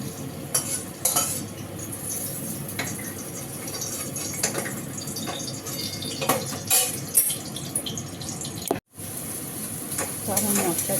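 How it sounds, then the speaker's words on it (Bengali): Masala sautéing in a hot pan gives a steady close sizzle under repeated stirring scrapes and utensil clinks, with a brief break near the end. "তো আমার মশলাটা কষানো হয়ে গেছে"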